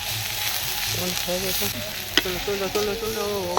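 A masala of light garlic and onion paste fries in a pan, giving a continuous close sizzle with a couple of sharp spatula clacks and some tonal background sounds, without any speech.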